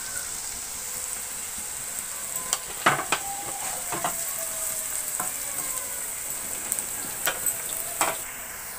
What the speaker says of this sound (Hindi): अब इसे अच्छी तरह से सॉटे कर लेंगे।